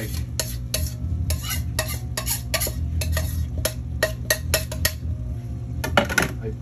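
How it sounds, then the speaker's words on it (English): Cream and two eggs are mixed in a bowl, the utensil clinking against the sides in quick, regular strokes that carry on steadily with brief pauses. "every 2 minutes I mix cream with 2 eggs"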